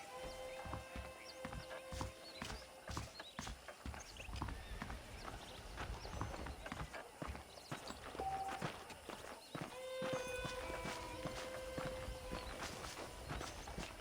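Hooves clip-clop at a walking pace, close and continuous, with a horse whinny and scattered ambient sounds around them, from the video game Red Dead Redemption.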